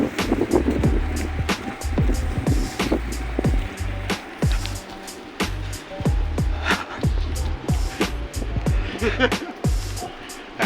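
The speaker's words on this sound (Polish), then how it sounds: "Jest bardzo wieje, jest dodatnia temperatura" Strong wind blows outdoors on a mild day above freezing, a steady roar with heavy low rumble and repeated buffeting gusts striking close against the microphone, with no break across the stretch.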